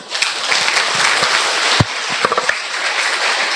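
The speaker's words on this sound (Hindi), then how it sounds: "ताली बजाकर भाइयों का स्वागत।" A crowd at a spiritual self-reflection and stress-relief program claps steadily to welcome participants, a dense, sustained applause with a few sharper claps standing out.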